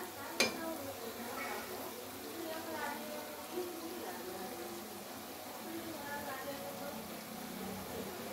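Tomato puree fries in oil in a home kitchen pan, giving a steady, soft sizzle with occasional stirring scrapes and a sharp clink near the start, close by and moderately quiet.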